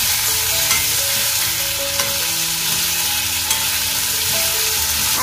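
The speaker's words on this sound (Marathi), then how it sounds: "आपली फोडणी ना चांगली परतून झालेली आहे" Tomatoes sautéed in a hot tempering with curry leaves, a steady close sizzle and frying hiss with stirring scrapes throughout, no voices.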